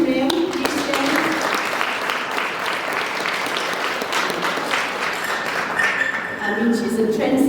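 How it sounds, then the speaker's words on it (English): Audience at an alumni association breakfast networking event breaks into steady, close applause that fills the room, with a voice speaking faintly over the clapping. "Please give her a big round of applause."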